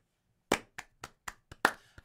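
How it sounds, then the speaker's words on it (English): A few hands clapping slowly and unevenly, six distinct close claps spread over about a second and a half, with no crowd and no voices. "I think that's applause"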